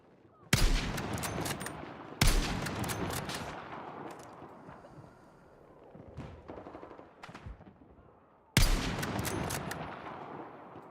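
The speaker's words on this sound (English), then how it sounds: "I see gunfire from there." Heavy gunfire in a sniper video game, several loud sharp bursts of rapid shots separated by quieter stretches, with fainter distant shots in between.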